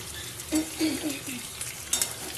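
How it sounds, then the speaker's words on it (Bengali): Pointed gourd and potato pieces frying in a pan, with a soft continuous sizzle and a few scraping stirs of a utensil against the pan, fairly quiet. "দেখো পটল আলু কিন্তু ভাজা ভাজা আমার হয়ে এসছে।"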